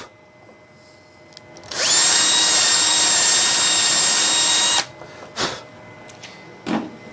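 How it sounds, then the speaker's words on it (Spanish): A power drill with a bit bores a hole into wood in one steady, loud, high-pitched whir of about three seconds, followed by a couple of faint knocks. "Y en el centro barrenamos, hacemos un hoyito"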